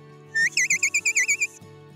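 A shepherd gives the come-here whistle command for a border collie: a loud, close run of about nine quick, shrill, rising whistle pips, evenly spaced and then stopping sharply.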